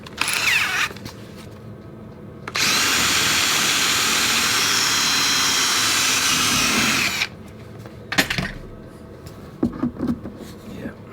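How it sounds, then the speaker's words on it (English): A power drill whines steadily for several seconds as it bores a hole through a plastic rear wheel well liner on a Jeep Cherokee XJ, loud and close, framed by quieter handling noises before and after. "I'm going to drill a little hole there"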